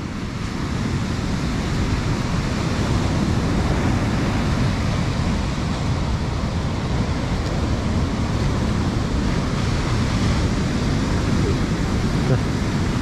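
Continuous ocean surf rolls onto the shore at Pandansari beach in Bantul, a steady broadband wash with wind noise and no clear breaks, loud and close throughout.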